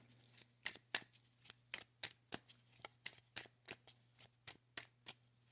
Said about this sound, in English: Let's pull out a couple of these cards.